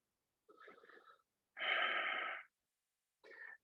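Three deliberate breaths during a yoga split pose: a soft airy breath, a longer, fuller inhale through the nose, then a brief final breath, close and isolated in a quiet room.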